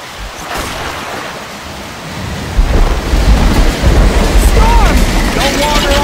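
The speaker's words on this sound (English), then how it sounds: "Storm!" Heavy rain and a rolling thunderstorm in the Left 4 Dead 2 Hard Rain mill escape, a steady downpour that swells into a loud, low rumble of thunder midway and keeps roaring to the end, with faint voices under it.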